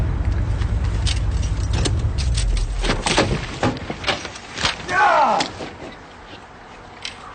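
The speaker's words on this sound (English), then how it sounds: "now you two rock back and forth when I gun the engine" A car engine roars and revs as the vehicle sits stuck in a ditch, the low rumble loud at first and then giving way to clunks and mechanical rattles, with a voice briefly heard.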